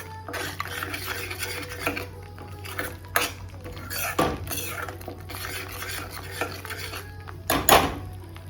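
A spoon stirs spice masala powder in a metal pan for Pune-style misal pav, with repeated scraping and clinking against the pan. Soft sizzling sits underneath, and a few louder knocks stand out.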